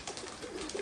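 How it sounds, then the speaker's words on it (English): A pigeon coos softly, a low, muffled, throaty murmur lasting under a second, heard alone and fairly close. "Pigeon."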